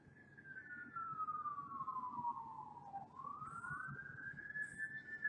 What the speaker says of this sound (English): there's sirens are going